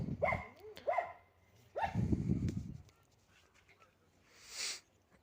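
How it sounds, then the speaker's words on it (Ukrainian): A dog barks twice in quick succession, then gives a longer rough bark, fairly close; a faint higher whine follows near the end. "Так, а ти що гавкаєш?"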